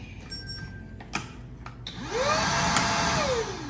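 A Shark cordless stick vacuum cleaner hums at a steady pitch, then ramps up loudly to a higher motor whine that holds and then slowly falls, after a couple of clicks from handling it.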